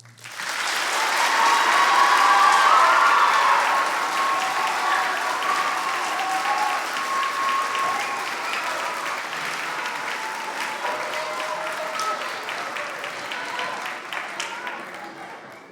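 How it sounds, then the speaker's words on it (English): Sustained applause from the audience at a middle school spring band concert, loud and steady for about sixteen seconds, with some voices in the crowd mixed in. "Give them a round of applause."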